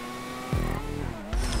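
Race car in GTA 5 accelerating, its engine tone climbing in two sharp surges with low rumbling bursts, loud and close throughout with no talk.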